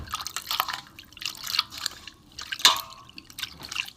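Water splashes and drips irregularly as paneer curds are squeezed and rinsed by hand in a bowl, a run of small wet slaps and trickles close by with no talk.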